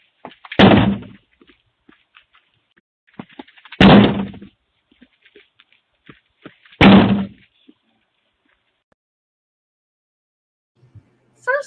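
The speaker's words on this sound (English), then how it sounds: "running up to kick in the door" A door is kicked in by people running up to it: three heavy, booming impacts land about three seconds apart, with faint shuffling and small knocks between them and a short noise at the very end.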